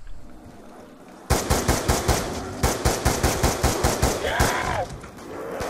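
Automatic gunfire in Black Ops 2 Zombies, a loud, fast burst of evenly spaced shots that starts abruptly, pauses briefly, then continues in a second rapid run with no talking.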